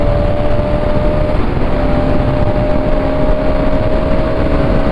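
Bajaj Pulsar motorcycle racing along a street at speed, a steady loud engine drone mixed with heavy wind rush running continuously throughout, no talking.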